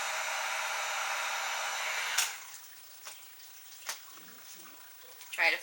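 A heat gun blows hot air steadily onto craft mask material for the first two seconds, then cuts off, leaving scattered faint taps and handling noises.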